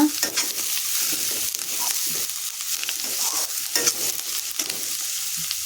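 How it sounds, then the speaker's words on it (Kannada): Carrots frying in a pan for egg fried rice, with a continuous close sizzle and repeated scraping strokes of a spatula stirring them, steady and fairly loud. "ಈಗ ಕ್ಯಾರೆಟ್ ಸೇರಿಸ್ಕೊತಾ ಇದ್ದೀನಿ ಇದನ್ನು ಸಹ ಫ್ರೈ ಮಾಡ್ಕೊಳ್ಳೋಣ"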